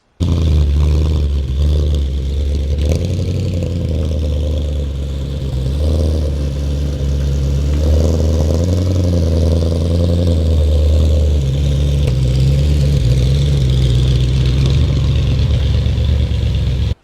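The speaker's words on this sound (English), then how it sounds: "The exhaust note is like a tribute to Pavarotti." An Audi RS4 with a 4.2-litre V8 rumbles through its exhaust, a deep, loud engine note that rises and falls through revs and gear changes, close by with no talking.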